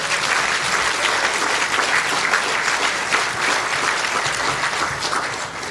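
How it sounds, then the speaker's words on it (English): Applause from a crowd at a medical school grand opening, a dense, loud and steady wash of clapping that holds for several seconds with no speech over it. "Give yourselves a big round of applause"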